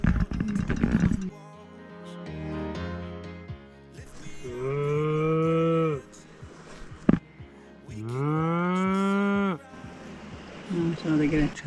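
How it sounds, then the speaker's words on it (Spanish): Cows in a home garden moo in two long, drawn-out calls several seconds apart, with shorter lowing and scattered background noises around them. "Todas las vacas que tenemos acá en el jardín de casa,"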